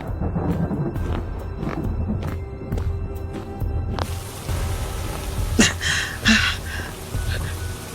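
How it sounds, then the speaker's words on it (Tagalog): Rain pours steadily with a low rumble of thunder, then sharp gusty splashes and thuds near the end. "Bumuhos ng malakas na ulan."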